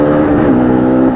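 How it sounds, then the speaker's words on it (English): A KTM Duke 200 motorcycle accelerates hard in third gear, its engine note loud, close and steadily rising with no pause across the short burst. "I'm in, okay, third gear. Look how this thing pulls away."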